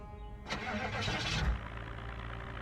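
A car engine in Project Zomboid cranks over and catches, a loud burst of turning and firing before settling into a steady low idle.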